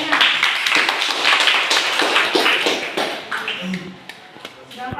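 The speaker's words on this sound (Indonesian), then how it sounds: "Tepuk tangan untuk temannya" Students in a grade 9 classroom clap for a classmate, a brief dense burst of close handclaps that thins out toward the end, with some talk and shuffling mixed in.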